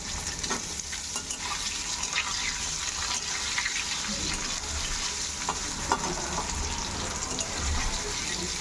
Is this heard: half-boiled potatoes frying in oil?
yes